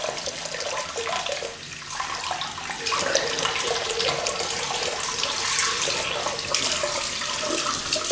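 A tap runs steadily into a sink to warm an Edwin Jagger DE89 safety razor, water gushing close and constant with slight shifts in flow.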